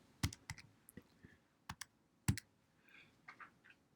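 Clicks of calculator keys being pressed to enter numbers, a sparse irregular series of short, fairly close taps with brief gaps, no talking.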